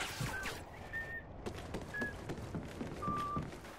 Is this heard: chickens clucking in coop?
no